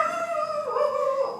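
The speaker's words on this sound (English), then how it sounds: "usually don't have dogs right outside barking" A dog howls close outside, a sustained wavering cry that rises and dips across the whole moment without other sounds.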